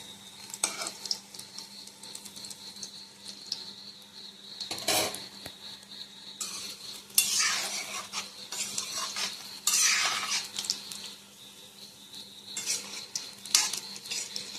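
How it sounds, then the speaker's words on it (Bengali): Jackfruit fritters frying slowly in hot oil, with a steady low sizzle and repeated scrapes and clinks of a utensil stirring and turning them in the pan. "আস্তে আস্তে জাল দিয়ে ভাজতে হবে"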